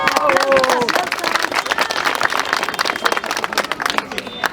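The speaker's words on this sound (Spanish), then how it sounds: "Un fuerte voto de aplauso, por favor" Audience clapping and applause at a silver wedding anniversary celebration, a dense, steady patter of many hands lasting throughout, with crowd murmur and voices mixed in.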